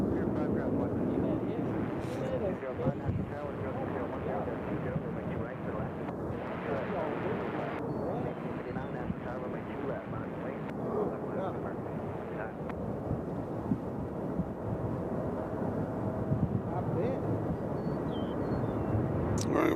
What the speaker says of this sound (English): we got Southwest Flight 205 coming in from Atlanta